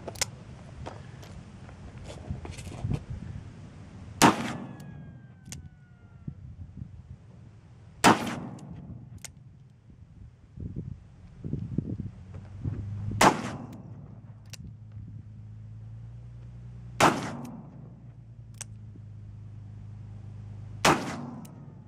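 Smith & Wesson 629 .44 Magnum revolver fired outdoors, five loud, sharp gunshots spaced several seconds apart, each with a booming decay, over low background rumble and scattered small clicks.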